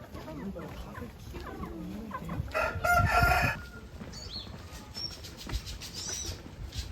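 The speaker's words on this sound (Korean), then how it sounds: "닭인데?" Chickens crowing and clucking outdoors in a village setting in Indonesia, a rooster's crow rising loudly midway over steady background murmur, with people talking nearby.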